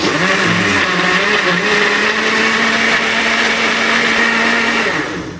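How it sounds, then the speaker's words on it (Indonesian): A blender whirs as it purées bananas, a loud steady motor whine held at one pitch for about five seconds before spinning down at the end, with no voices. "Pun langsung mawon niki di blender."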